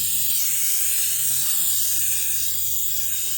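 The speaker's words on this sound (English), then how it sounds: "trying to spray this on nice and thick" Aircraft paint stripper sprayed from an aerosol can onto the aluminum fuel tank of a 1956 Kenworth truck, a steady, close, continuous hiss that holds evenly throughout with no talking.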